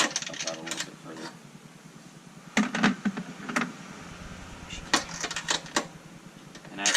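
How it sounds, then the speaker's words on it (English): Ratchet with a deep socket tightens bolts on a double-layer tailgate table for a Bronco, a series of quick clicking bursts close by, with someone talking intermittently. "I'm going to switch to a deep mounted socket"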